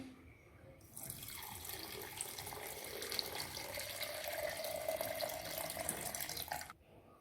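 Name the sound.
water being added for mint juice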